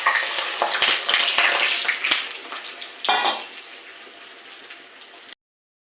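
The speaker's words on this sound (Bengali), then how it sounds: "তেলটা গরম হয়ে গেছে, এবার দিয়ে দেবো ডিমটা" Beaten egg hits hot oil in a wok and frying starts, with bright crackling sizzle, sharp clinks and scrapes of a utensil against the pan, and the sizzle gradually settling before an abrupt cut to silence.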